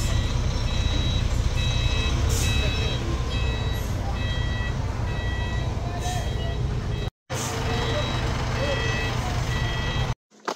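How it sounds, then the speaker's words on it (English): Steady, repeated high-pitched reversing beeps from a bus sound in regular pulses over a loud idling engine rumble nearby, with brief dropouts, in northern Vietnam. "Don't mind the beeping noise of the bus behind us"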